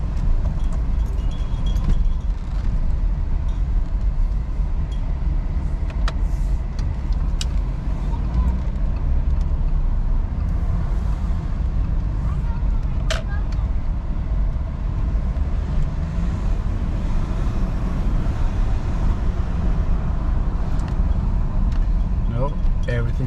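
Audi Q7 with a newly replaced wheel speed sensor driving on the road, a steady low rumble of engine and tyre noise heard from inside the cabin throughout, with faint occasional ticks.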